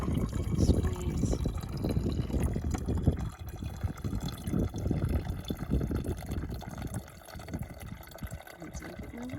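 Water squeezed through a Sawyer filter trickles and splashes steadily into a container outdoors on a desert trail, a continuous close liquid flow with small drips and gurgles throughout.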